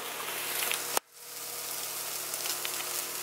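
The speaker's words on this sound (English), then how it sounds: "Ground turkey's already cooked, but I just like to brown it up just a little bit." Already-cooked ground turkey sizzles steadily as it browns in a frying pan, a dense close hiss broken briefly by a sharp clatter.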